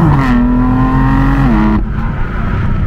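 An F82 BMW M4 with a 425 hp engine accelerates hard on a drive, its loud, steady engine note climbing under load, then easing off sharply toward the end. No one speaks.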